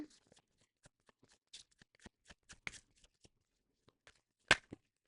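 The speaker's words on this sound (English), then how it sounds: "I'm going to shuffle and get one more." Tarot cards are shuffled in a quick series of soft riffling flicks and taps, close and quiet, with one louder snap near the end.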